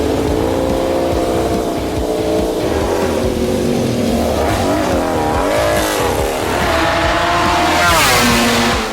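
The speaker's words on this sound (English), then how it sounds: "we are going for a taxi ride on a MotoGP bike" A KTM MotoGP bike on a race track in Austria roars continuously, its engine note rising in pitch as it accelerates, loud and close throughout.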